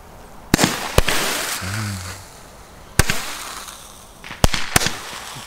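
A red-green Xplode Roman candle fires outdoors, giving sharp, loud pops at irregular intervals, each followed by a brief crackling hiss, with a short low tonal sound in between.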